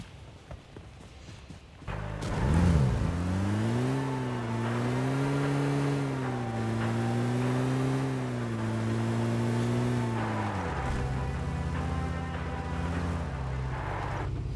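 A car in PUBG Mobile accelerates and drives steadily, its engine drone rising and holding for several seconds with slight pitch swells before easing off, loud and close with no voices.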